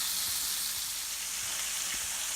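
Venison tenderloin frying in a pan: a steady, bright crackling sizzle fills the sound, with faint scattered pops and spits throughout, close and continuous.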